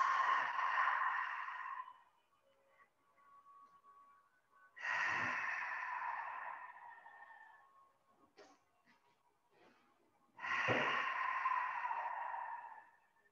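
Three long, slow breaths pushed out through an open mouth during a qigong breathing exercise, each a soft breathy rush lasting about two seconds, close and alone, with quiet pauses between them.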